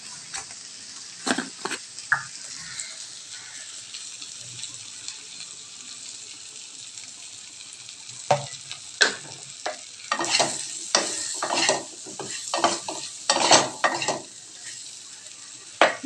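Spices fry in oil in a pan with a soft, steady sizzle, broken by sharp scraping stir strokes that come sparsely at first and then cluster loudly in the second half.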